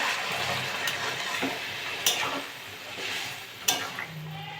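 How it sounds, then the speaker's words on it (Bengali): Hot water poured into a pan of frying potato curry, aloo dum, a steady hiss and bubbling sizzle with stirring scrapes and several sharp clanks of a utensil against the pan. "আমি এবার জল দিয়ে দেবো এই সাইডে গরম জল করে নিয়েছি গরম জলটা দিয়ে দেবো"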